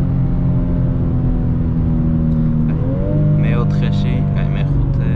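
A BMW M2 accelerates hard on a German autobahn, its engine droning loud and close from inside the cabin, then shifting up with a rising pitch after a gear change. Voices talk over the engine noise.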